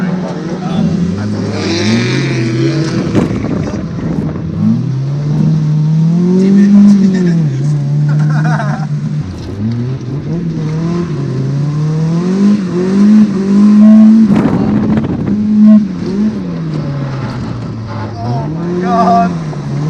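A Toyota 4AGE-powered drift car revs and slides on a wet track, its engine note rising and falling in repeated loud pulls with brief tire noise, heard up close under occasional talk from people inside.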